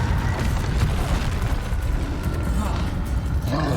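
Confringo fire spell blasts in the video game Hogwarts Legacy, a loud, dense run of booming explosions and rumble filling the whole stretch.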